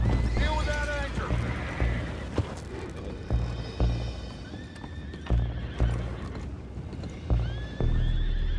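Horses in the video game Red Dead Redemption 2, repeated neighs and whinnies over rhythmic clip-clopping hooves, with voices talking at times in between.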